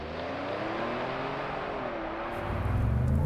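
A 2022 Ford F-150 Tremor pickup accelerates with a steady, loud engine drone whose pitch climbs gradually, then swells heavier near the end, heard from inside without talk.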